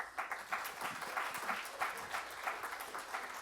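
Audience at a charity gala on mental health applauding, a steady wash of many hands clapping at moderate distance, fairly quiet and without talk.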